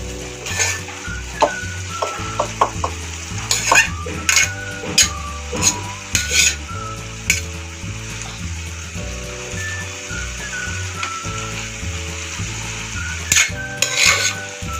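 Rice being stirred into a pot of bisibele bath made with MTR bisibele bath powder, with repeated scraping and clinking of a spoon against the pot over a low sizzle, close and steady with no talk.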